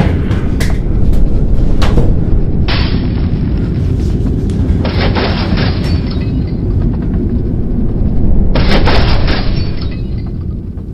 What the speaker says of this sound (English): A class 3 storm has gathered around apartment block 7.